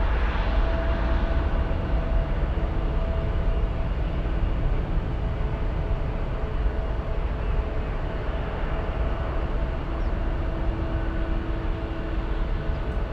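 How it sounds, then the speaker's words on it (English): A United airliner departs San Francisco bound for Denver, its engines a loud, steady broadband roar that holds without a break, with no voices over it. "The departure flying to Denver, we have United 1596."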